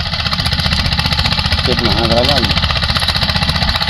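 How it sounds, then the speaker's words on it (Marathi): Tractor pulling a rotavator through a field, a loud, steady, pulsing engine drone close by, with a voice speaking over it briefly. "पाठीमागे रोटरमुळे खूप चांगल्या पद्धतीचा भोगा होत आहे"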